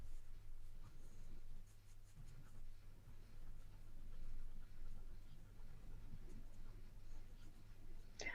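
A pencil sketches on paper during a live drawing lesson: a soft, continuous scratching that stays quiet and close, with a steady low hum underneath.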